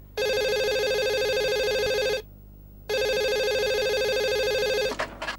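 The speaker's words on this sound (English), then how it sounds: "Damn prank calls. See what I mean, Sam? I even get harassed on the phone now" A telephone rings in two long electronic trills separated by a short pause, loud and close, followed by a brief clatter as the handset is picked up.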